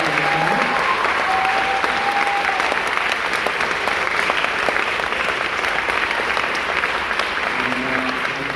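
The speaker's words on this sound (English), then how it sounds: "give it up for Mr. Schmidt for the great year" Steady, loud applause from a large crowd at a senior band concert, continuous clapping that fills the whole stretch without letting up.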